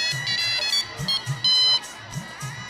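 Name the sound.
phone ringing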